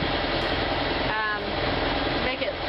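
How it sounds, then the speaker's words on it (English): A sailboat's engine drones steadily and loudly throughout while motor sailing, a constant mechanical hum with faint voices beneath it. "We're kind of just motor sailing, keeping the engine running"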